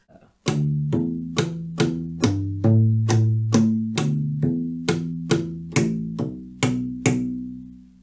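A U-Bass plays a slow repeating pattern of sharp, percussive slapped notes, each ringing briefly before the next, with hammered-on pitch changes between them.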